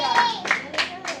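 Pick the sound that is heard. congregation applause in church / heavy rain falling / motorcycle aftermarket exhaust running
congregation applause in church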